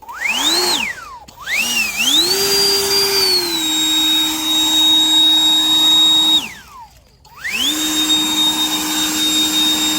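A high-pitched motor whine from a cordless leaf blower spins up and holds steady as a loud rush of blown air, cuts off, then revs back up again.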